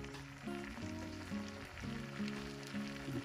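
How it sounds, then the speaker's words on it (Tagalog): Chili paste of salt, sugar and vinegar bubbling in a pan, a steady close sizzle with soft popping and crackle, along with a faint tonal hum in the background. "Hayaan ko lang po munang kumulo ito."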